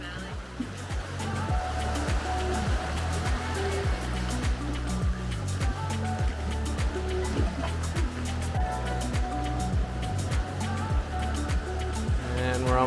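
Ocean waves wash against a rocky, eroded shoreline at a beach in Baja, a loud continuous rush and churn of surf with no talk heard.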